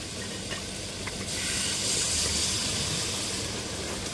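Broth poured into a pan of sizzling katla fish masala sends up a loud, steady hiss of steam and frying that swells midway and then settles.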